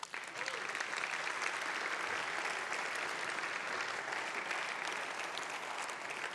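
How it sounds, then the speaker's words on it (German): Dense, sustained applause from a large audience at a political party's 25th anniversary celebration in a concert hall, steady and loud throughout without pause. "Geschätzter Paul, darf ich dich unter einem grossen Applaus hier auf die Bühne bitten?"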